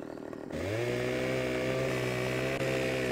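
Close, loud Husqvarna chainsaw in Farming Simulator 15 kicks in and holds a sustained whining engine tone while cutting a tree, with a brief dip near the end.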